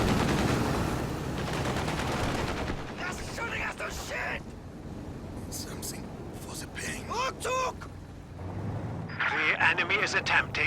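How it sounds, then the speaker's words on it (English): Machine gun loaded with armor-piercing rounds firing in a Company of Heroes 2 match, bursts of rapid shots and mechanical clatter mixed with battle noise, with talk layered over parts of it. "Armor-piercing rounds equipped on that machine gun"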